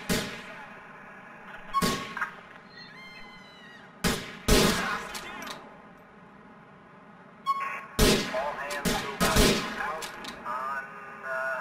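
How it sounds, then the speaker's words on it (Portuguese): Sniper rifle shots in GTA IV online ring out as loud single cracks with metallic ringing tails, fired in spaced bursts with quiet gaps between them. "Aqui no modo online eu peguei uma sniper."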